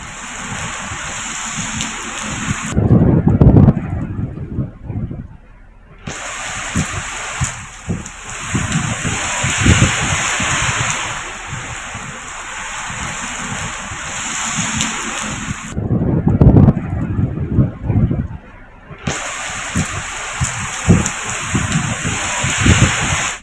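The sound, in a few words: rain with strong winds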